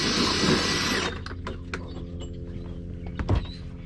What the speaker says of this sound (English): All right, I'm gonna start drilling, Ruth.